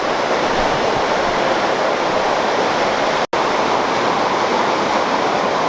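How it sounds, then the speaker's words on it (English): A river rushes loudly and continuously in the Big Bear hiking area as hikers wade across, a broad roaring flow heard up close, broken by a split-second dropout midway. "Walking right through the river."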